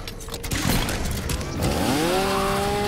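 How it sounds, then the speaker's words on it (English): A chainsaw attack in Mortal Kombat X: a loud revving, grinding buzz that rises in pitch and holds steady, preceded by sharp impact hits, with no talking. "Boom, chainsaw."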